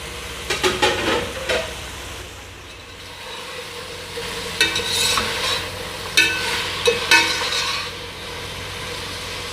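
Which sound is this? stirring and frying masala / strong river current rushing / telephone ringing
stirring and frying masala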